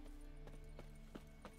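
Roach, a horse in The Witcher 3, galloping with a steady beat of soft hoof thuds, four or five over under a mid-loud game backdrop with a low drone and no talk.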